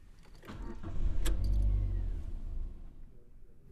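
A car engine rumbles low and quiet, swelling to a fuller drone before easing off. A few light clicks and rattles sit on top of it.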